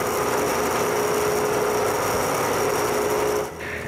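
A homemade wooden bandsaw runs with a steady, close whirring hum and a faint high whine, unbroken until it drops off slightly near the end.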